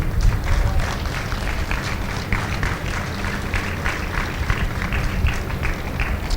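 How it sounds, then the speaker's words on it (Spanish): A church congregation at a Spanish-language service applauds, a dense, continuous wash of many hands clapping that holds steady throughout at moderate loudness, with a faint murmur of voices underneath. "Demos un aplauso a ellos."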